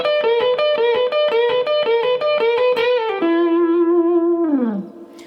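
A repetition lick on distorted electric guitar: a rapid string of repeated picked notes, then a held note bent and sliding down as it fades, close and alone.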